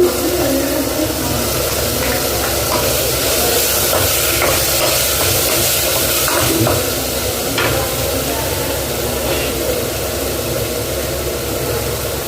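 Potatoes and ginger-garlic paste added to tomato masala in a pan, a loud, dense, continuous sizzle with stirring scrapes throughout, close up and with no voices.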